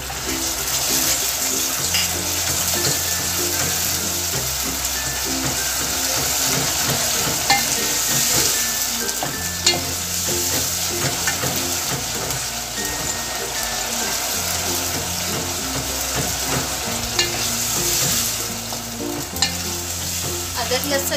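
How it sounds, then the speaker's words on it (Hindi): Ginger garlic paste fries in a pan of lightly golden onions for keema masoor biryani, with a steady, loud sizzle and a rhythmic scrape of stirring throughout, no talking. "अदरक लहसुन को भून के हम खीमा डालेंगे।"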